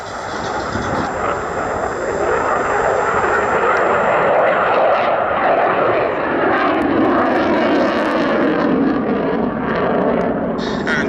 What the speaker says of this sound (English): like to welcome the number 29 Squadron Typhoon to Duxford